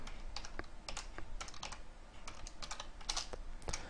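Quiet, close typing on a computer keyboard, a steady run of light key clicks with brief pauses, heard alone without talk.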